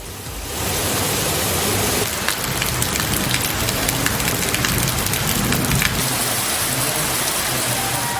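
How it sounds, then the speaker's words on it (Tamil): Heavy afternoon rain pours down in Kodaikanal, a dense, loud, continuous roar of drops hitting surfaces that holds steady throughout. "கொடைக்கானலில் பிற்பகலில் 1 மணி நேரத்திற்கு மேலாக கனமழை கொட்டியது"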